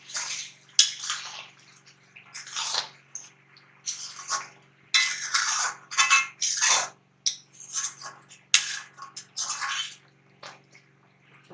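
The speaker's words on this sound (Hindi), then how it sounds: "थोड़ा सा मैं इसमें पानी डालूंगी, थोड़ी सी ग्रेवी करूंगी।" Water is poured into a pan of chicken white karahi to make a gravy, heard as bursts of splashing and pouring with clinks of a utensil against the pan, close and clear.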